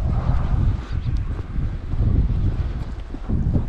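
Wind gusts across a snowy mountain path near a temple in Tono, Iwate, in northern Japan, a loud, rough rumbling buffet on the microphone that swells and dips throughout, with no voices.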